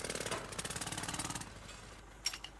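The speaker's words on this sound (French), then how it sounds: "Le travail au marteau-piqueur génère un niveau de bruit important." Jackhammer pounding on a building construction site, a rapid, loud, rhythmic hammering burst that stops after about a second and a half, followed by a few faint clanks.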